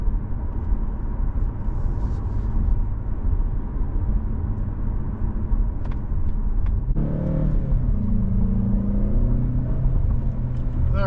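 A 2025 Mazda CX-30 Premium Plus subcompact SUV driving hard down the road, with a steady loud engine and road rumble throughout and a rising engine tone joining partway through.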